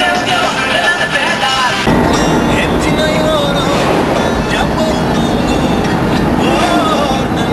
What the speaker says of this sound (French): On appelle ça les trains de route.